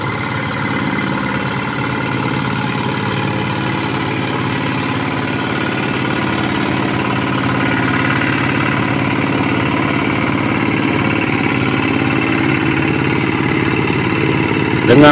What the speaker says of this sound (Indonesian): Dengan hand traktor semua pekerjaan jadi ringan